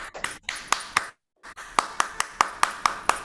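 Audience clapping for the organizers of a bacteriophage research conference, sharp distinct claps in a loose rhythm, briefly stopping before resuming in a steady run of single close claps.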